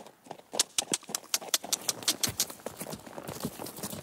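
A horse being ridden in a stable arena clip-clops along in uneven, fairly brisk hoofbeats that range from sharp to softer, each fall distinct against a quiet background.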